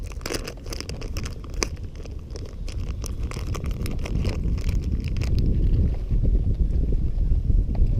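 Gusty wind buffets the microphone while bass fishing in Florida, with low rumbling roars that grow stronger toward the end, alongside faint crinkling and splashing.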